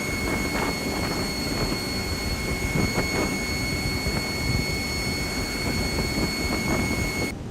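Airliner auxiliary power unit running in X-Plane 12 as a loud, steady turbine roar with a high whine, constant throughout and cutting off abruptly at the end.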